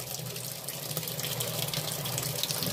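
Weak water trickles into a Sanyo top-loading washing machine, a steady, soft hiss of flowing water with no break, fairly close and quiet.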